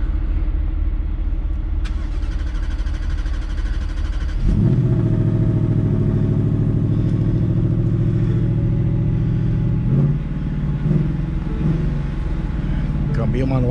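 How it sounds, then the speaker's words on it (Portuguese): A parked pickup truck's engine idles steadily with a deep, continuous rumble, close by and loud, while someone talks over it. "Só que eu deixei o caminhão ligado."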